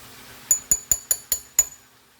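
Spoon striking a glass bowl while stirring a honey butter sauce: six quick bright clinks at an even rhythm, close and crisp, with nothing else heard.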